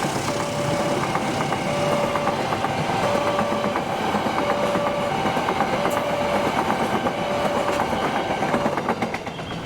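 Train that derailed at Tanggulangin pulling into Jakarta, a steady loud rumble with rhythmic clickety-clack of wheels over rail joints and a repeating tonal whine, continuous throughout.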